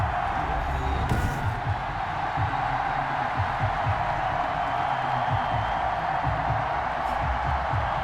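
Stadium crowd cheering in the Madden 21 video game before a Las Vegas Raiders versus New England Patriots matchup, a steady, loud roar of many voices filling the whole stretch with no one talking over it.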